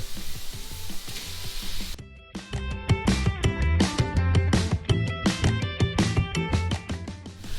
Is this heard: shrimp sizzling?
yes